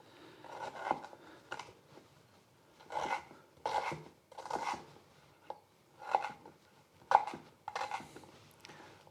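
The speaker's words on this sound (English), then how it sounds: "all I'm actually doing here is I'm just going to finely chop it because it's actually easier to grind" A knife finely chops peeled ginger on a board in a home kitchen, giving bursts of quick, close, crisp taps in irregular clusters with short pauses between them.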